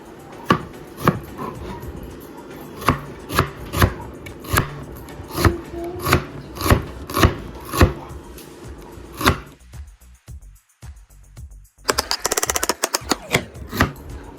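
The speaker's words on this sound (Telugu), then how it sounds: "సో మన ఆనియన్స్ని సన్నగా కట్ చేసుకుందాం." A knife chops onions finely on a board in a home kitchen, about a dozen crisp, evenly spaced close-up strokes, a short pause, then a faster run of quick chops.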